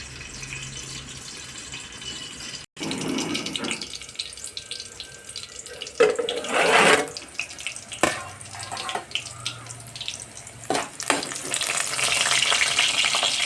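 Green chillies frying in oil for a coriander-tomato chutney, a steady close sizzle broken by bursts of louder spattering and a few knocks and clatters, no voices.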